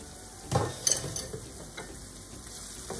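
Onions fry in a pan while being stirred for papaya bazi, a soft steady sizzle with a few scraping knocks of a spoon against the pan near the start.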